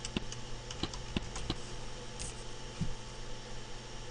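Keys tapped on a computer keyboard while entering contact details into a Weight Watchers form, a few soft separate clicks scattered over a quiet background hum.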